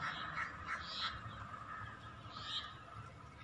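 Chickens roam beneath trees in a home garden, giving a few scattered clucks and calls at a moderate distance over a steady outdoor background hum.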